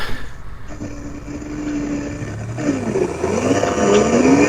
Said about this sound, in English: so now we're doing the drag race between these two bikes